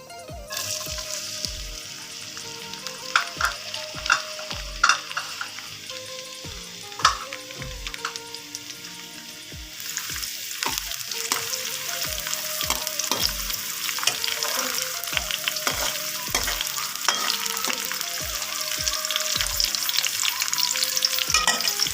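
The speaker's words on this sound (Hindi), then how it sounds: "ऑयल थोड़ा सा गर्म हो जाए तो इसमें हम ऐड करेंगे प्याज।" Onions frying in hot oil for an aloo anda curry, a continuous crackling sizzle that grows fuller midway, punctuated by regular low thumps and utensil taps against the pan.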